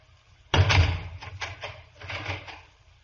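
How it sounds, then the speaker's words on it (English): A door shuts with a sharp thud and is then locked, with a few clicks and rattles of the latch following, staged as a sound effect in an old-time Sherlock Holmes radio drama. "You may leave the room and lock the door."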